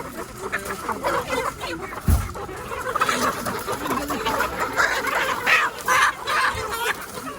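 Chickens clucking at a village market in Kyiv Oblast, Ukraine, amid a busy, noisy outdoor crowd, with people talking nearby and a sharp thump partway through.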